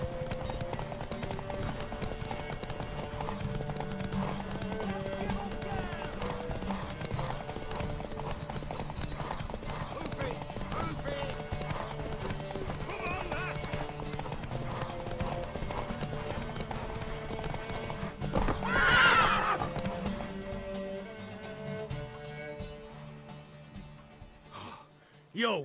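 A horse gallops in The Witcher 3 video game, its hoofbeats clip-clopping steadily under game music, with a louder snorting whinny surging up near the end before the sound drops away.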